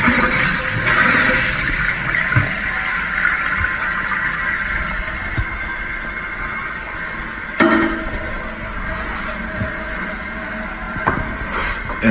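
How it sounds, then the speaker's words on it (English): A household toilet, newly installed, flushes and its tank refills, a steady broadband rush of water running throughout with a sharp surge partway through, loud and close with no talking. "you flush it, you hear the water running, that's your tank filling up again"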